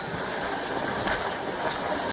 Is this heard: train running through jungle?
yes